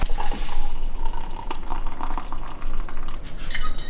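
Water splashes and trickles steadily into a cup for instant coffee, a continuous filling sound lasting several seconds at close range with no talking.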